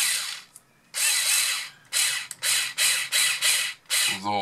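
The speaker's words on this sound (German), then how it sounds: "ich benutze einen Akkuschrauber" A cordless drill driving screws into a Team C GT8 RC car, heard as six loud, close whirring bursts separated by brief pauses, the last ending in a ratcheting clutch stutter.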